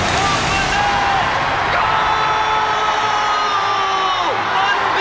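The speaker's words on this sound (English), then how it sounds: "The crowd is going wild." A loud crowd cheers and whoops after a goal at a children's soccer game, a constant roar of shouting voices with whistle-like tones sliding over it.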